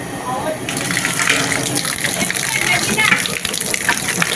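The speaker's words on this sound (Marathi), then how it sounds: "आता ह्याच्यात आपण पाणी टाकून घेतोय हा." Water gushes loudly and steadily into a large cooking pot for a big batch of dal, starting after a short pause and running continuously close by, with muffled voices underneath.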